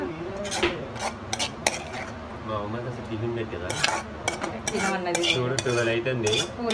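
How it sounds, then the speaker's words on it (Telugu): Metal spoon clinking and scraping in a cooking pan as boiled tomato and garlic are added and stirred, with irregular close clatter and quiet talking in the background. "వెల్లుల్లిపాయలు వేసేసి దీంట్లో టమాటో కూడా వేసేస్తున్నాము ఉడికించిన టమాటో కూడా"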